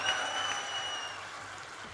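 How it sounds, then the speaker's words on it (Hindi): A crowd applauds at a humorous Hindi poetry show, a steady wash of clapping with a faint whistle-like tone drifting above it. "ताली बजाओ, सांस लेना है।"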